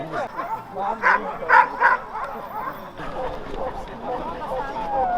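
Male Yakutian Laika at a dog show giving a few short, sharp barks and yips mixed with busy crowd voices, with people talking close by throughout.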